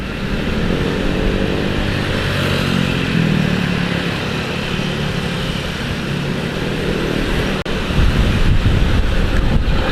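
Honda Vario scooters ride along a track, their engine drone buried under heavy, continuous wind buffeting on the microphone.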